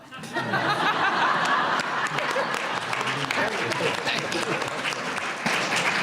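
A crowd at a women's forum for Illinois Democratic gubernatorial candidates breaks into loud applause, with scattered chuckles and voices mixed into the steady, full clapping.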